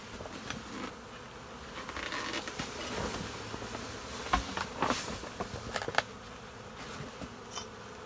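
Honeybees buzz steadily around an opened beehive with feeders on top, a dense close insect hum that swells and dips, with a few louder passes near the listener and no talking.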